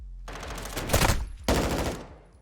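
Call of Duty esports match gunfire, with a rapid burst of automatic shots followed by a second loud volley, close and punchy with little else around it.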